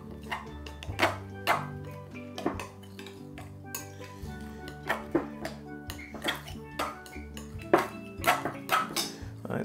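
A knife scrapes and clinks against a bowl while bringing vegan Jamaican patty dough together, giving irregular sharp taps and knocks with a low background hum.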